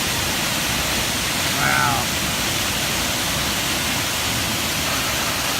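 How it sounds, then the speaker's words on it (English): Rushing waterfall at the Paronella Park hydro system, a steady broadband roar of water filling the scene throughout, with a brief voice exclaiming once partway through. "this is the fateful Paranella Park waterfall hydro system"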